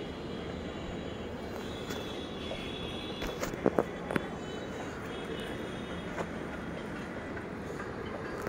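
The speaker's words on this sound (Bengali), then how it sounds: "ওই যে দেখতে পাচ্ছেন ট্রেন।" A train passes through an outdoor countryside scene with rose bushes nearby, giving a steady, moderately distant rumble with a few brief sharp clicks and knocks in the middle.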